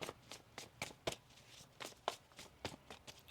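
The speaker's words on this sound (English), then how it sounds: "One more shuffle here." Tarot cards are shuffled by hand in quick, soft riffling bursts, about a dozen brisk slaps and flutters in an uneven rhythm, close and quiet with no talking.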